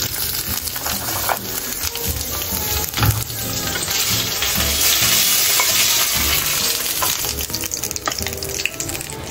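Kare-kare ingredients sautéed in a pan, with a continuous close hiss of frying and irregular stirring and scraping knocks throughout.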